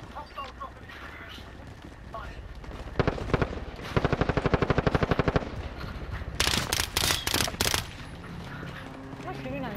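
Gunfire in an online shooter game, rapid bursts of automatic fire, a long sustained volley and several separate louder shots, with players talking over and between the bursts.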